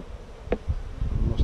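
Honey bees buzz from a package cage during a group beekeeping lesson, a quiet, close, wavering drone lasting only a moment.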